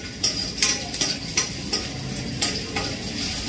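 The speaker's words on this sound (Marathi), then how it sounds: "शेंगदाण्याचे मस्त असे फ्राय होऊ द्यायचे, जास्त फ्राय नाही करायचे." Peanuts fry in a pan with a soft continuous hiss, broken every few moments by sharp clicks and scrapes as they are stirred, close and fairly loud.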